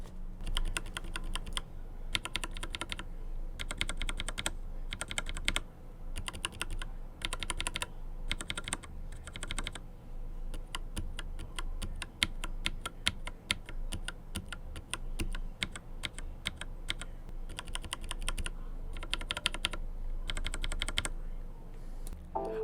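Steady typing on JWK Taro tactile mechanical keyboard switches in bursts, crisp clicky keystrokes with short pauses between runs, close up and with no voices.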